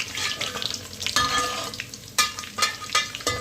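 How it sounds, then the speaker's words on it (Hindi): Sliced onions fry in hot oil left from frying paneer, a bright crackling sizzle broken by sharp bursts and scraping stirs, close and fairly loud with no talk. "जो प्याज को हमने स्लाइस में कट कर लिया था, इसको भी इसी तेल में फ्राई कर लेते हैं।"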